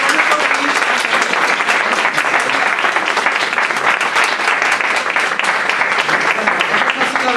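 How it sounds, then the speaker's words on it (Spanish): Steady, dense applause from an audience at a film festival awards ceremony in Asturias, loud and sustained throughout with no break. "Un aplauso, Maricheli."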